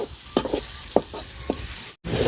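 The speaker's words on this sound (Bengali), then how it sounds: "মশলাটা খুব সুন্দর করে আমি কষাই নিচ্ছি" A spice masala of onion, green chili and garlic paste fries in a pan for a tilapia curry, with a soft sizzle under several distinct spoon scrapes and stirring knocks, close up.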